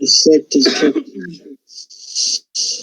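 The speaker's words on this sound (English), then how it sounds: "That was a cough." A single cough rings out in a small room among players at a tabletop role-playing session, brief and close, with people talking around it.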